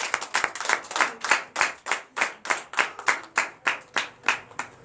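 A church congregation at a Sunday worship service in Benin claps in unison, a steady rhythmic beat of sharp strong claps, about three per second, loud and close with no voices over it.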